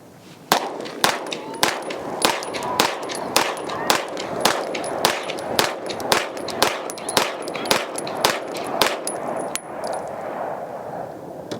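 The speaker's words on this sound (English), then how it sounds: "First rounds to the DWX" Dan Wesson DWX pistol fired in a rapid string of sharp shots, around twenty evenly spaced cracks with faint metallic pings between them, close and loud at an outdoor range.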